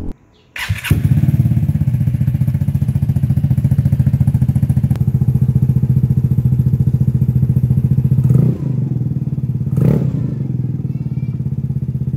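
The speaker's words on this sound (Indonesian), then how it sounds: "Gue gak pernah ganti knalpot motor sebacot ini paling bacot deh kayaknya." A Vespa Matic scooter starts with a thump and then idles loudly, its unmuffled exhaust with no baffle rattling in a harsh, steady drone with a couple of revs near the end.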